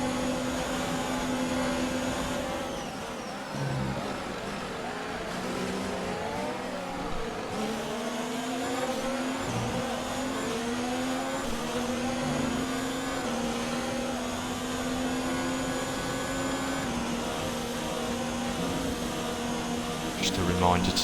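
Simulated Formula 1 car engine from the racing game F1 2019, a continuous high-pitched whine with rising and falling revs through gear changes, loud and steady throughout, with a voice talking over it.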